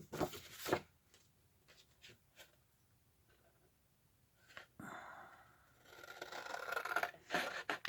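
Scissors cut paper for a lap book, with soft close snips and rustles, a few sharper cuts, and a longer scraping paper sound near the end; no talking.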